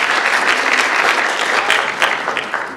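Applause from an audience at a technology showcase event, a dense, loud wash of many hands clapping steadily without any speech.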